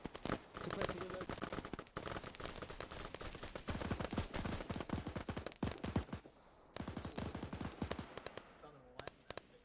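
Sustained machine-gun bursts in Arma 3 laid onto windows for suppression, loud rapid cracks in tight strings with brief pauses between volleys, a few faint voices underneath.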